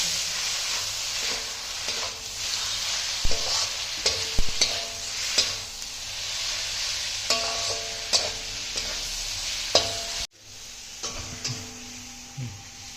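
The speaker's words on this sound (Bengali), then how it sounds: "এখন মাংসটা দিয়ে দেবো মাংসটা একেবারে জলটা শুকিয়ে শুকনো শুকনো বানিয়ে নেবো" Marinated meat fries in a hot pan, a steady sizzle broken by repeated clanks and scrapes of a spoon stirring, close and clear.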